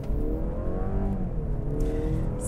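A 2022 Mercedes-Benz C300 AMG Line drives on a busy road, its engine a steady, close drone with rising tonal hum as it accelerates, road and wind noise underneath, no speech.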